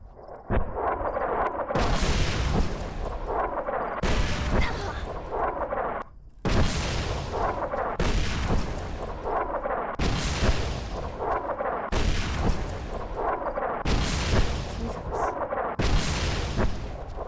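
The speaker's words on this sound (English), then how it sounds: "How am I supposed to meet them if they keep bombing" Bombing explosions in the video game Fallout: New Vegas, a regular series of about eight heavy booming blasts roughly two seconds apart, loud and close, each with a rumbling tail.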